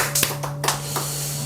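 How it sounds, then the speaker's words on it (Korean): Church congregation clapping hands during a worship service, a few scattered sharp claps rising from a steady room hum, with a low sustained tone droning underneath. "하나님께 영광의 박수 돌립시다."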